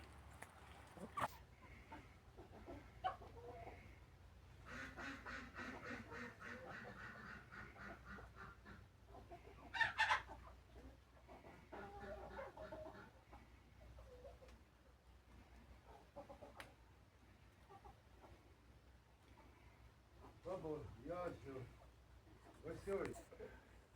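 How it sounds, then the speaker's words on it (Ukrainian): A rooster clucks and crows among a flock of hens in a farmyard, with fowl calls scattered through the quiet background while people talk at intervals. "От тобі й хазяйство півень хазяйнує в себе у своїм гаремі"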